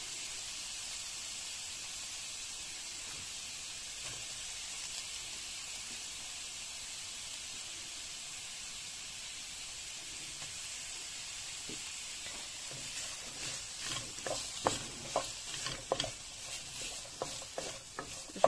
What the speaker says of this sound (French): Je vais laisser frire un peu et par la suite je vais rajouter mes poivrons.